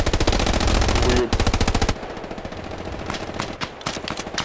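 Machine gun fire in the World War II shooter Hell Let Loose: a loud, rapid sustained burst of shots, a short pause, another burst, then scattered distant gunfire and single cracks.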